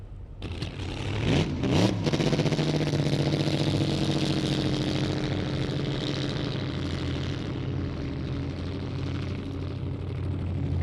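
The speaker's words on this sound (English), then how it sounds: "He is coming to the starting line now to go for that AA dragster record." A 1962 AA dragster engine at the Winternationals starting line, heard as a loud, steady roar that holds at high volume throughout, with a brief rev surge near the start.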